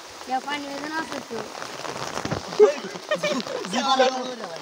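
Steady rain falls on Eid day, a continuous wet patter running underneath voices talking and singing close by.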